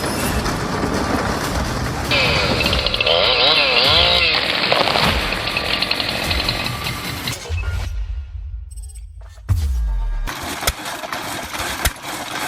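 A homemade chainsaw wood-cutting machine runs loud and steady with a rough engine roar, then cuts out into a low idle hum before revving back up near the end.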